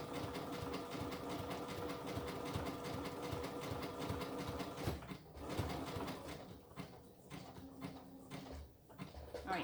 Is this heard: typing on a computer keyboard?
no